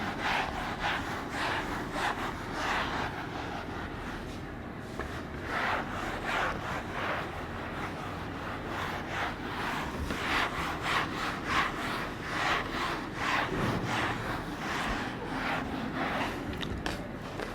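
Rubbing strokes of an eraser clearing writing from a classroom board during a physics lecture, a long run of quick repeated scrubbing swipes, fairly close and steady, with no talking over it.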